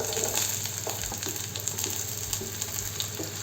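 Chopped onions frying with cumin seeds in a pan over low heat, giving a steady close sizzle with soft crackles and occasional stirring scrapes, no voices.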